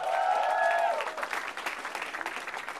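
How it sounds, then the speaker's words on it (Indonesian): Studio audience at an Indonesian stand-up comedy battle show claps for comedian Temon, a loud burst of applause at first that thins into scattered clapping over a crowd murmur. "Tepuk tangan untuk Temon"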